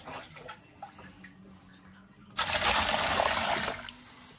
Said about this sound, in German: Ich kippe das jetzt mal aus und dann machen wir die nächste Spülung.